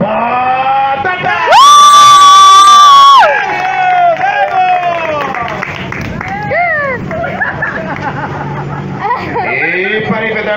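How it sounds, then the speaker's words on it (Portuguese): A crowd cheers and shouts loudly at a pirate-ship show in Balneário Camboriú, with a sharp whistle-like tone early on and bursts of excited voices throughout. "Aplausos para o pirata Patatá!"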